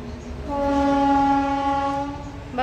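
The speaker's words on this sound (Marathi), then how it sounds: "बघ कशी आमच्या मामाच्या इथून ट्रेन दिसत." A passing train sounds a long, loud horn, a sustained tonal blast that swells and fades over a couple of seconds above steady rail rumble.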